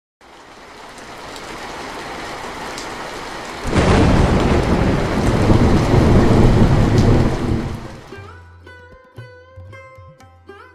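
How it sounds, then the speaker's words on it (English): Torrential rain pours in a dense, loud roar, swelling sharply as a heavy thunder crash breaks in midway, then the downpour cuts away to a quiet tail with faint tonal sounds. "there was torrential rain which flooded all the crops"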